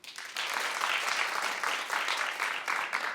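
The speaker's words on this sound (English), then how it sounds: "Clap if you saw." A talk show studio audience claps together in a moderately loud burst that starts abruptly and carries on steadily for about three seconds, somewhat distant.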